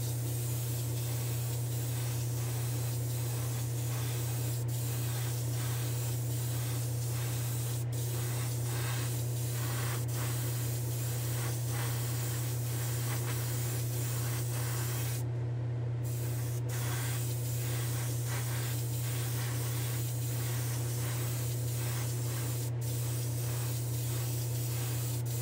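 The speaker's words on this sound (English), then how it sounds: "So that clear coat came out of the gun super slow" Spray gun laying 2K clear coat onto a diecast model car, a steady close hiss over a constant low hum throughout, with a brief break near the middle and no speech.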